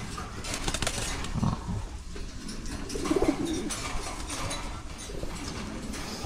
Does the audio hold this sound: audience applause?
no